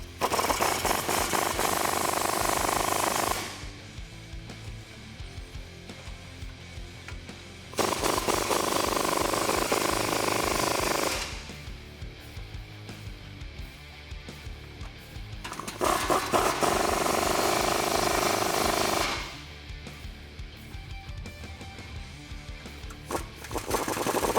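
A 2019 RAM 1500 with the 5.7L V8 and an aFe Mach Force XP 3-inch dual exhaust with black tips rumbles loudly in repeated bursts of several seconds each, dropping to a lower idle drone between them.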